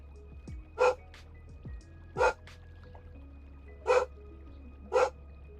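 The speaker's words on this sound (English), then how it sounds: "listen to Rita bark" A dog named Rita barks four times, evenly spaced single barks, fairly close and clear over a low background hum.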